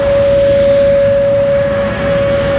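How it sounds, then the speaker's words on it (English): Tornado sirens wail during a tornado watch in Iowa City, a steady sustained tone holding loud and unbroken over a wide band of outdoor noise. "you may be able to hear there are tornado sirens going off"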